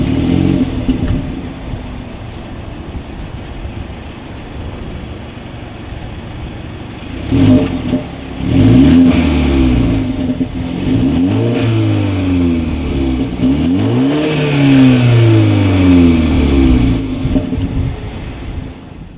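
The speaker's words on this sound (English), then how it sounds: "As always, here is that exhaust clip." A 2019 BMW 330i with dual exhaust outlets idles with a steady low burble, then is revved twice, the engine rising sharply and falling back each time, heard up close and loud.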